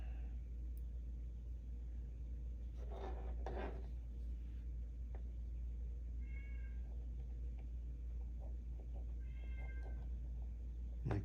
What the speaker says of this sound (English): My kitty cat is not happy that she is not up here helping me.